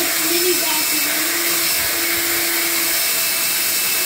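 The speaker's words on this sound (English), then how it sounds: "you can take this off and just kind of like mini vacuum it." A Hoover Air Cordless Lift vacuum cleaner runs in handheld mode with its brush detached, giving a loud, steady, close whine with a faint tonal hum and no break.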